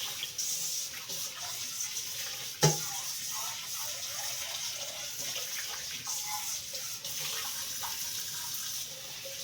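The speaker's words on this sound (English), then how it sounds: "Put more hot water. Rinse this out." Hot water runs steadily from a tap into a sink while canning lids are rinsed, a continuous close rushing stream with one brief clunk partway through.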